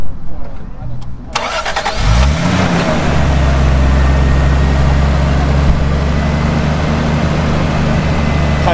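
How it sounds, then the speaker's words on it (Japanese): A 1987 Toyota Mark II GX71 GT Twin Turbo engine cranks and catches after a short whirr, then settles into a steady, low rumbling idle that holds close and loud. "オーナーさん、軽くエンジンかけていただいてよろしいでしょうか。"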